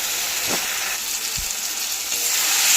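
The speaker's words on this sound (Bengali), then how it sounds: "এবার আমি মশলাটাকে ভালো করে কষিয়ে নেব।" Ginger garlic paste and ground spices fry in oil with a loud, continuous hiss and sizzle, broken by a couple of soft low knocks from stirring, with no voices.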